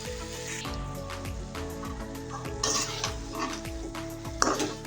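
Chicken with chopped green chilies is stirred in a pan with steady utensil scrapes and clinks against the metal, over a continuous low sizzle and a faint background hum, with no talking.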